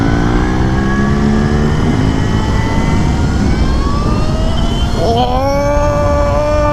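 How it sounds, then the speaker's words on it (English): A 2018 Alta Redshift SM electric supermoto being ridden. A high electric-motor whine drifts in pitch, then climbs sharply near the end, over a loud, steady rush of wind noise. "Good thing I'm on this quiet motorcycle"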